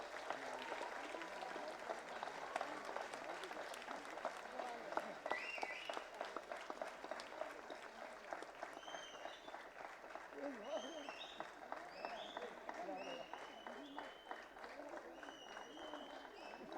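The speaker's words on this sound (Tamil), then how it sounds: "இவங்களுக்கெல்லாம் ஒரு கைத்தட்டல் மட்டும் கொடுக்குறீங்களா?" Crowd at the Tamil film 1947 audio launch claps for the cast, a sustained patter of applause with voices mixing in throughout, captured fairly faintly.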